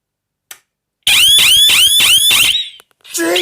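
A very loud homemade money shredder alarm clock goes off, a harsh electronic ringing in rapid repeated pulses that starts abruptly after a brief click, cuts out, then starts again.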